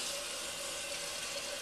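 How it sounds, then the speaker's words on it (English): Cold tap water runs steadily into a cooking pot in a kitchen, a continuous close hiss and splash with no break across the short stretch and no voices. "Alright, I'm going to fill up this pot with cold water."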